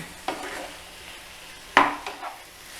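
Yam stir fry with black pepper powder being stirred in a pan, giving a few short scraping clatters of a spoon against the pan over a faint sizzle, with no talk.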